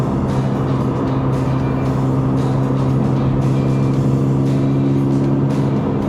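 A Toyota GR86 with a six-speed manual gearbox pulls hard on a test drive in Malaysia. The loud, steady engine drone comes from inside the cabin, with constant humming tones and road roar and no talk over it.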